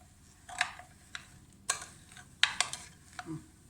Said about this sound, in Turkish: Şimdi kızım güzelce karıştırıyor.